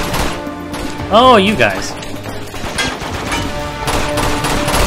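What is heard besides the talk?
gunfire from the video game Uncharted 2: Among Thieves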